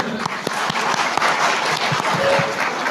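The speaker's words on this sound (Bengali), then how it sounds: "আপনারা প্রত্যেকে নিজেদের জন্য একটা করে হাতে তালি দেন" An audience at a student gathering bursts into hand clapping, a dense, steady wall of applause that fills the whole stretch at close range.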